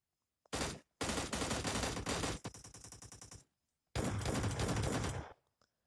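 Automatic gunfire from the PUBG Mobile Lite game comes in three loud rapid bursts of shots, separated by short silent gaps, with no voices over it.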